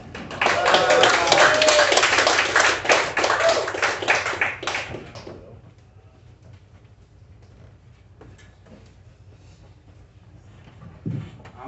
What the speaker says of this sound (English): please give a big round of applause for Sean Guest